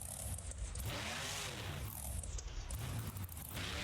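A monster truck engine roars at a busy outdoor event in a steady, loud, rough drone with slight surges.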